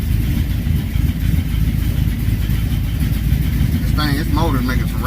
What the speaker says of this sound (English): This motor's making some racket that I don't like.